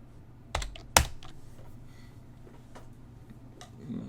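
C# code is typed on a computer keyboard: two sharp, loud key clacks near the start, then sparse, quieter taps scattered across a few seconds at close range.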